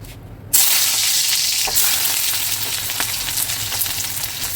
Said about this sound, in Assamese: এই পিঁয়াজখিনি ভালদৰে ভাজিব লাগিব